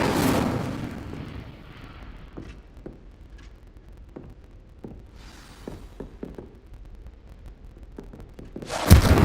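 Casting of the Incendio fire spell in the Hogwarts video game: a loud whooshing blast opens, followed by a series of sharp distant thumps and crackles, then another burst swells at the end, with no talk.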